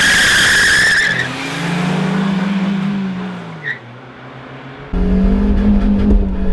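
An FSO Polonez running on margarine as engine oil skids loudly with a long tire squeal and engine roar, fades, then bursts back in with hard, close revving.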